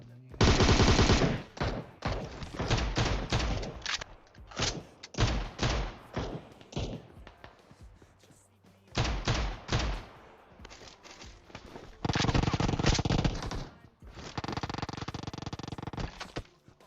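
Gunfire in the PUBG Mobile battle royale game, with shotgun blasts among repeated loud bursts of rapid shots, short pauses between volleys, and a couple of sustained dense barrages.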